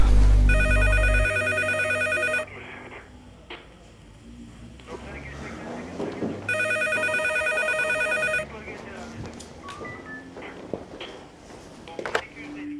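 A telephone in a Hindi drama scene rings in two separate electronic bursts of about two seconds each, with voices talking and movement noise heard between and under the rings.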